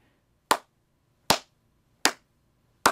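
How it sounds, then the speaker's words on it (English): Four sharp, isolated hand claps spaced evenly, tapping out the rhythm of the opening measures of Ode to Joy in a flute lesson, close and clear in a quiet room. "Let's clap the first 4 measures."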